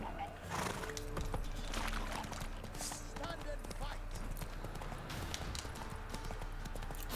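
Roach the horse trots in The Witcher 3 video game, a steady clip-clop of hooves with an occasional whinny, moderately loud against continuous game music and ambience, with a voice talking over it.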